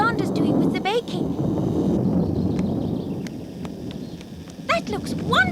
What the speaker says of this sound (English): I just knew it would start raining.